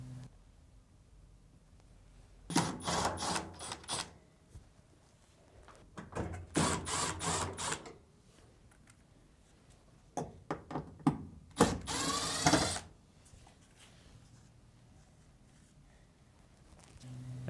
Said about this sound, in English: Then, remove the three screws on the lint duct.